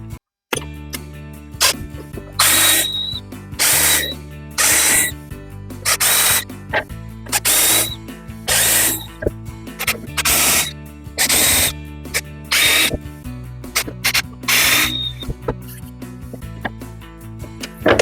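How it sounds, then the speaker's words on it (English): A power drill whines in repeated short bursts, stopping and starting about a dozen times, as it enlarges screw holes in a sunken boat under restoration; loud and close with no talking. "So I'm going to drill this out just a little bit bigger."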